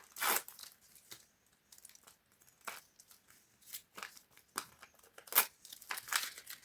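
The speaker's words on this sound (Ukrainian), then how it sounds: "Мої минулі колекції відкриваємо також три пакети." Paper packets being torn open and crinkled, a series of sharp rustling tears and crackles with short pauses, close by and fairly quiet.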